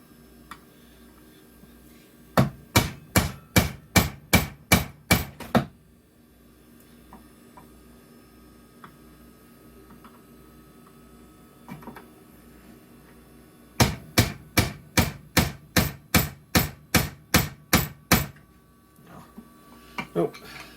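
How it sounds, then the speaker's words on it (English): Two bursts of sharp, evenly spaced metallic taps from a hammer striking an old IDE hard drive, about eight to ten strikes each, separated by a quiet stretch with faint background noise. "If I use an actual hammer."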